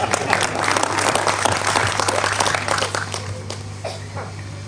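Audience applause at a Hindi poetry recital honouring a kavi, a loud dense wash of clapping near and full that gradually thins and fades out toward the end.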